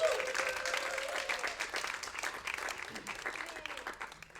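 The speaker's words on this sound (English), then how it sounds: "first big round of applause for everyone who is like going to be part of the team in the future" Event audience clapping for future team members at an introduction gathering, a moderate round of applause that stays fairly steady then thins slightly, with a voice briefly audible over it early on.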